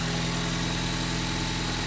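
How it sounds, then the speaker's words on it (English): A car engine idles steadily just after a new head gasket and ARP head studs were installed, a close, even low rumble with a regular pulsing throb and no talking. "the car is idling"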